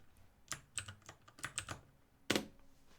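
Typing on a computer keyboard during a live stream, quiet, irregular clusters of close key clicks with one sharper, louder keystroke near the end and no speech.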